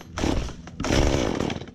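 A chainsaw being pull-started while trimming trees, two sharp recoil pulls each giving a brief sputtering churn of the engine that fails to catch, loud and close.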